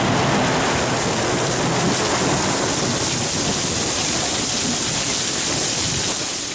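A storm pours heavy rain with rolling thunder, a loud, dense, unbroken wash of sound with no voices.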